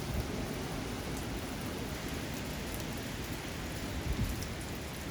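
Rain from Hurricane Delta pours down in Central Louisiana, a dense, even roar of falling water with no break and no voices.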